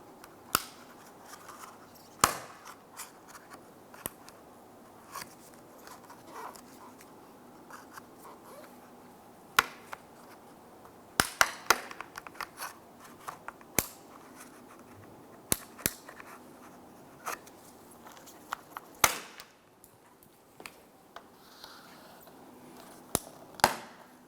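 A plastic A-pillar windshield molding trim on a 2011-2019 Ford Explorer is gently pried up with a trim tool, giving scattered sharp clicks and snaps at irregular intervals over a quiet background.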